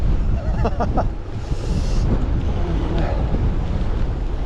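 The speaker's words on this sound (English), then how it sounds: "Ooh, headwind." Strong headwind buffets the microphone of a rider on a gravel bike on the Castleman Trailway, a loud continuous roaring rush with faint voices underneath.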